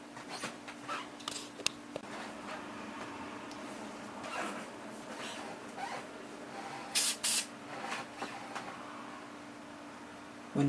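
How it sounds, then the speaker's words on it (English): An aerosol spray paint can applying light coats to a foam dart gun, a continuous hissing spray running steadily under low background hum, with a couple of brief louder bursts near the end. "When you spray, you do it in light coats with passes"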